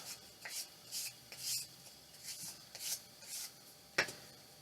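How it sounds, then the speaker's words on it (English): Wood shims being scraped by hand for a DIY craft project, a faint series of short rasping strokes in an irregular rhythm with one sharper knock near the end. "Kind of scrape it up a little bit there."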